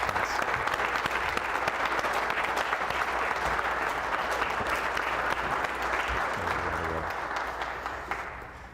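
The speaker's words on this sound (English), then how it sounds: "Round of applause." Sustained round of applause from a standing audience at a Navy change of command and retirement ceremony for a captain, a dense, steady roar of clapping that carries on for several seconds before tapering slightly at the end.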